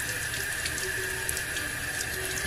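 Tap water runs steadily from a faucet into a sink while a flat makeup brush is wetted, a constant close hiss with no talking.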